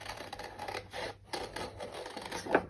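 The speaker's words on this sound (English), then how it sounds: "So I'm going to try and cut this out into a circle." Scissors snip through a paper Christmas printable, cutting it into a circle, with soft intermittent rasping cuts at close range and a sharper snip near the end.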